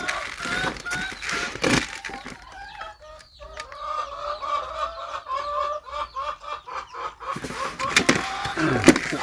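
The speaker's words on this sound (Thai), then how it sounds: "ฟังเสียงไก่ผมดีครับพี่น้อง" Several laying hens cluck and chatter close by in a steady run of calls, with some rustling and bumping noise at the start and end.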